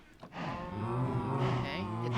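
Cows mooing on a community cow farm in a video game, a single drawn-out low moo lasting a couple of seconds, fairly quiet and close.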